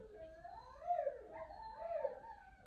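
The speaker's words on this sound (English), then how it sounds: "Can you hear my dogs?" Pet dogs in a house give faint, high, wavering whimpers and yips that rise and fall, like soft howling, across a couple of seconds.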